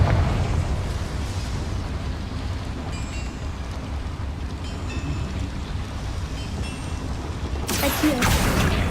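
Confringo fire spell explosion in Hogwarts Legacy, a dense roaring rumble sustained throughout with a sharper, brighter blast near the end.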